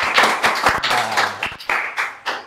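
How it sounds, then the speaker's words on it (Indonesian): A small group claps for a couple of seconds, sharp close hand claps forming a short, brisk round of applause. "Tepuk tangan dulu."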